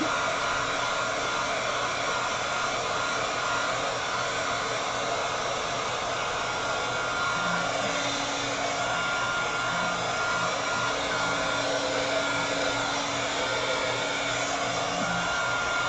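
A hair dryer blows steadily on a thrifted basket, drying it before stamping; a constant, loud whooshing hum runs unbroken from start to finish with no voices.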